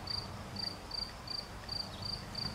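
Crickets chirp in short, regular bursts, roughly two per second, in an evenly repeating high trill over a soft, steady background hiss, with no voices.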